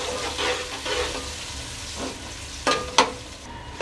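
Onions for matar pulao frying and being stirred in a pan, a continuous close sizzle broken by spoon scrapes and a couple of sharp clacks toward the end, with no talking.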